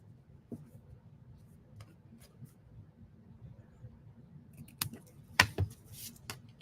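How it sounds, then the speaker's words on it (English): Scissors trim paper card stock for a handmade card, giving a few short, crisp snips close up, with light handling rustle between the cuts in a quiet room. "I'm going to trim this off just like that."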